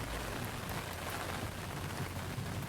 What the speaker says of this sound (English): Come on, keep raining.